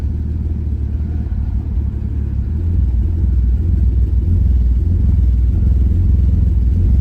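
A BMW E46 fitted with a turbo, idling after a year parked in a garage, gives a loud steady low engine rumble that grows slightly fuller partway through, with no voices.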